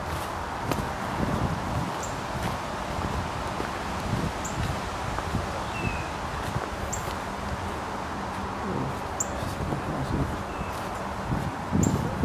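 Cold wind blowing outdoors at the ruins of the Chapman Beverley Mill, a steady rushing noise with rustling and faint scattered thuds throughout.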